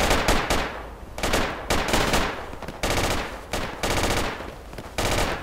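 Loud, close automatic gunfire in the military shooter Project Reality, repeated bursts about a second apart with each burst tailing off, and no voices.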